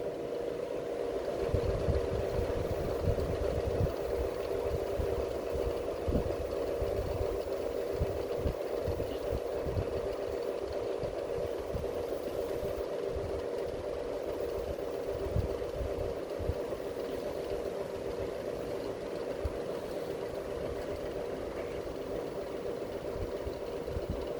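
A wood lathe spins a turned wooden box at about 400 RPM while CA glue goes on: a steady whirring hum with faint rubbing and tapping underneath, held evenly throughout with no talk.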